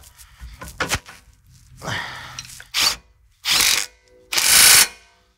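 Shock mount bolts on a 2019-or-later Ford Ranger being tightened with a tool during a Bilstein 6112 shock and spring install: several short, sharp mechanical bursts, growing louder toward the end, with a brief breathy sound near the start.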